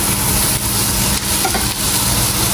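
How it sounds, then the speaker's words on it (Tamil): Liver stir-frying in a pan over a high flame hisses in a loud, steady sizzle, close up and unbroken, with faint scraping as the pieces are turned and no voices over it. "ஈரலை இதுக்குள்ளே அப்படியே போட்டு அப்படியே ஒரு கை ஃப்ளேமில் ஒரு டூ மினிட் அப்படியே பிரட்ட போகிறேன்"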